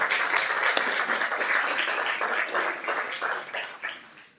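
A school board meeting audience applauds state champion families and coaches, a steady wash of many hands clapping throughout that tapers slightly near the end, with no clear talking over it.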